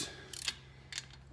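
A 15 mm socket wrench ratchets in two short, faint bursts of clicks while loosening the cylinder head studs on a BMW R 1200 GS motorcycle engine, with quiet pauses between them.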